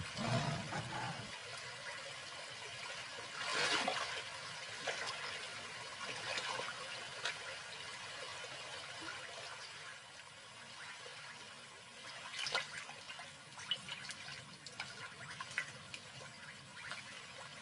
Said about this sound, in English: now their hunger drives them through the water.